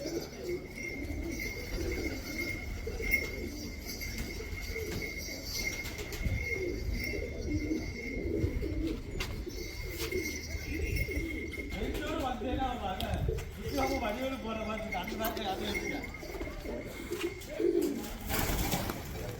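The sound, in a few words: pigeons cooing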